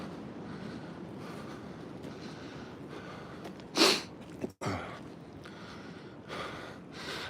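Steady wind rushes across an outdoor microphone, a continuous broadband roar with gusty swells and one sharp buffeting blast midway.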